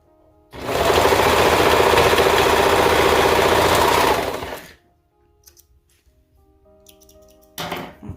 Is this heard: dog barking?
no